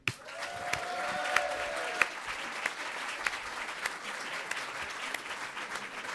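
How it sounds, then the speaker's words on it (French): An audience at the closing session of a developer conference applauds a sponsor, JFrog, with dense clapping that peaks early and then continues steadily. A short whistle-like tone rises over the first couple of seconds. "un peu d'applaudissements pour JFrog quand même."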